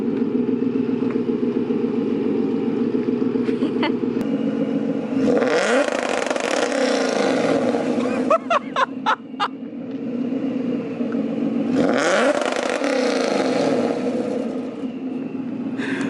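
A car engine with an MSD 2-step rev limiter revs hard twice, each time climbing, then holding with rapid crackling pops and bangs before dropping back, loud and close, with a burst of sharp pops in between.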